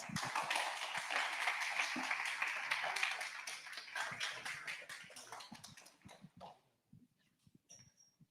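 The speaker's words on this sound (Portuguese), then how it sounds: "Então, por favor, uma salva de palmas." Audience at a talk on LangChain and generative AI breaks into applause, a dense burst of clapping that fades over several seconds into a few scattered final claps and near silence.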